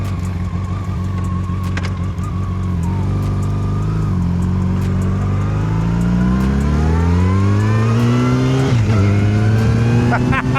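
A Yamaha FJR1300 motorcycle rides loud and close, its engine droning steadily with pitch rising and falling through gear changes, accompanied by wind rush and someone talking over it.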